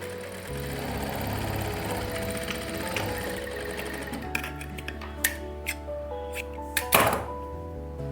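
A sewing machine stitches tucks into the cup of a blouse, a steady mechanical whir for about four seconds that then gives way to scattered thunks and clicks as the fabric is handled. No one speaks.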